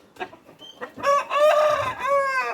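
Young rooster crowing close by, a clear drawn-out crow after a few soft clucks, loud and alone without talk.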